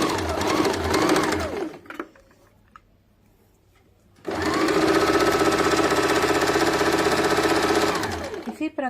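A sewing machine stitches the side seams of a boat-neck princess-cut blouse, running in a steady, loud whir. It stops for about two seconds of near quiet, then picks up again for a long continuous run.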